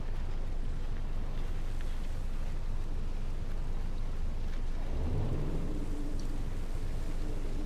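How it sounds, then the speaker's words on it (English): Wind blows steadily through a game world in Stories: The Path of Destinies, a continuous broadband rush with low rumble throughout, joined near the end by a rising tonal swell. "It was a bit windy up here."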